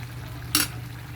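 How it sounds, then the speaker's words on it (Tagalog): A spoon stirs Filipino menudo stew in a pot, giving one short, sharp scrape against the metal amid a low, steady background hum. "Haluin natin at baka masunog ang ilalim."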